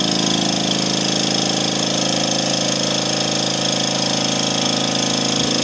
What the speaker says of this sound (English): This is the Welch 2025 self-cleaning dry vac system.